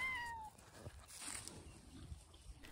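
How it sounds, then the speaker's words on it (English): A thin, brief cat meow at the very start, high and faint, followed by quiet room noise and soft rustling. "I think it's probably my fault he has such a puny little meow"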